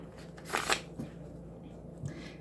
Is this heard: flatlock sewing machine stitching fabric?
no